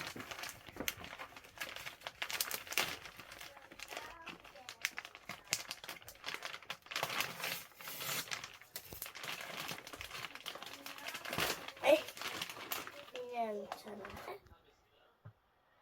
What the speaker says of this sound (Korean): 이제 언박싱을 했으니 뜯어볼게요.